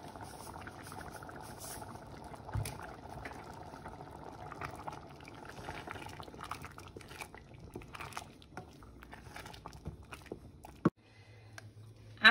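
A potato and lentil stew for khoresh adas simmers in a pot, giving a soft, steady bubbling and popping close by for several seconds. A louder clatter comes near the end.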